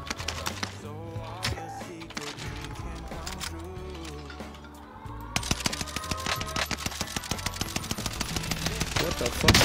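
Rapid bursts of automatic gunfire rattle in a shooter video game, dense and continuous clatter that grows heavier toward the end, with someone talking over it.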